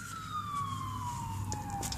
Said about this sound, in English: and that ambulance was not coming from me, by the way.